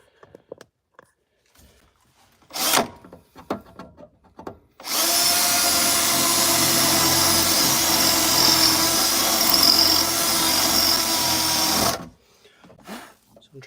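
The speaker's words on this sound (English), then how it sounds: "So I'm trying to just drill enough to break that spot weld." A drill bores into the spot welds on the sheet metal of a Ford Ranger truck, a loud, steady grinding whine lasting about seven seconds up close, with a brief burst earlier and quieter handling noises around it.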